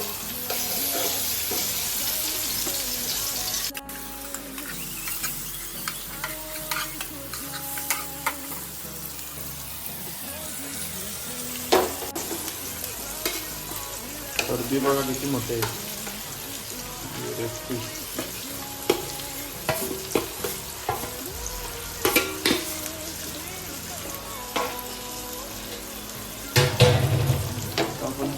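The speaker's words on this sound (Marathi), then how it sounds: "तेल मस्त तापलेलं आहे आणि आपण मच्छी आता टाकून देऊया तेलामध्ये" Steady sizzling of fish frying in hot oil in a pan, continuous crackle with occasional stirring and clatter, someone talking over it.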